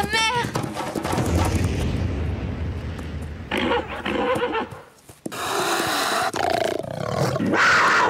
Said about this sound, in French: Un puma! Il attaque un de mes chevaux!